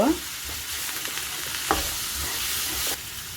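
Two cracked eggs with a pinch of salt are stirred and sizzle in a hot pan, giving a steady frying hiss with a few scraping strokes.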